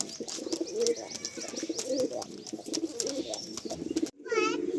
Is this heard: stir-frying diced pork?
no